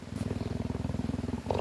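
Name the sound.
cheetah purring while being brushed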